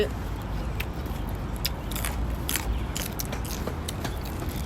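Someone taking big bites of Thai food, catfish larb and steamed fish curry with sticky rice, eaten outdoors in a Hong Kong park, with close wet chewing and crunchy bite clicks over steady background ambience.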